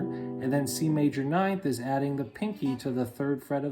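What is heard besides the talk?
No everyday noises stand out.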